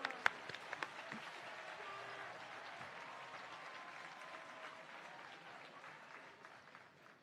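Audience applause at a college opening convocation, a steady wash of many hands clapping at a distance, fading gradually toward the end.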